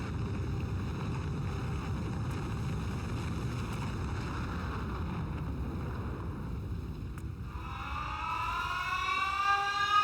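A low rumbling factory drone fills the air in modded Factorio (Krastorio 2) during an antimatter reactor test run. Near the end an alarm siren swells in, its rising harmonic wail growing louder over the last couple of seconds.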